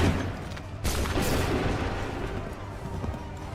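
A battle in Assassin's Creed 3 with a cannon and musket volley fired on command, heard as a loud, broad booming crack followed by a second burst and a long rumbling, crackling tail of scattered gunfire.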